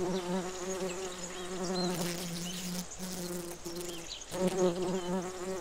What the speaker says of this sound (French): le bruit de mouche, il est juste là